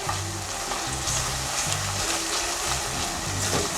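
Tomato paste sizzling and being stirred in a hot pan after onions, a steady close crackling fry with scraping stir movements and faint music underneath.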